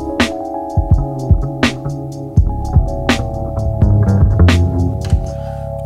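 A sampled hip-hop style beat plays alone on an Akai MPC 2000XL sampler, with punchy drum hits over sustained tonal chords and a thick, slightly gritty low end.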